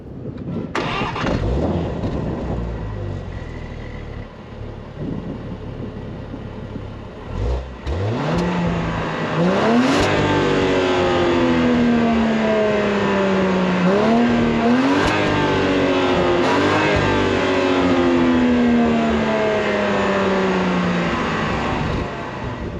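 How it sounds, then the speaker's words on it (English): A 2022 Jaguar F-Pace P400 straight-six engine cranks and catches, then revs up repeatedly in rising and falling surges before settling into a steady growling idle. "Let's go ahead and fire up this new engine and see how it sounds real quick."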